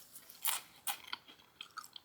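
Crisp crunching of freeze-dried grapes, small whole grapes bitten and chewed close up in a quiet room, with a few sharp crunches followed by softer, irregular chewing clicks.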